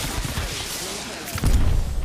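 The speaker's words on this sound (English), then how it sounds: "I'm getting shot by another team over there." Incoming gunfire from a rival squad in Apex Legends, a rapid rattle of shots through the clip that swells into a louder, closer burst near the end, with game ambience beneath.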